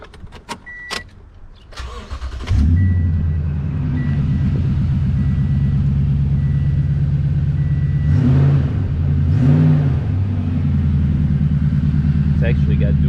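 A car engine with a Flowmaster muffler and true dual exhaust, two inlets and two black tips, cranks over after some clicks and settles into a loud, steady close idle with two brief revs partway through.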